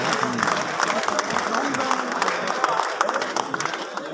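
An auditorium audience claps in a dense, steady patter that carries on throughout. Voices mix in over the applause.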